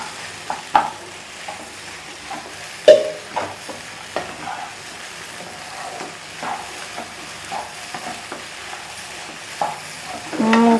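Idly upma being stirred in a hot pan, a low sizzle broken by repeated clinks and scrapes of a spoon against metal at an uneven pace, close and without voices.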